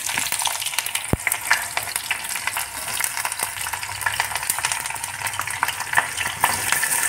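Green chillies, mustard seeds and cumin frying in hot oil for a tempering, a steady close crackling sizzle with sharp pops and spatters throughout.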